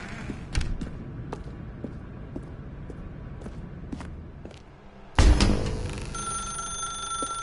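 Telephone ringing in the video game The Stanley Parable: a dim room with quiet creaks and light footsteps, then a sudden loud ring bursts in near the end and keeps sounding.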